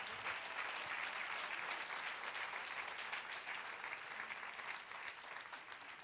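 A church congregation applauding, dense sustained clapping from many hands that fills the whole stretch at an even level before easing slightly at the end.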